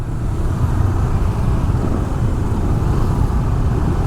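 Steady, loud low rumble of congested road traffic heard from a motorbike stuck in a jam in Canggu, Bali, with engines idling and creeping close by and no talking.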